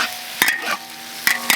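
Sliced pork with a large load of chili peppers stir-fried in a wok, with a steady sizzle broken by a few sharp scraping stirs of the spatula, close and moderately loud, with no talking.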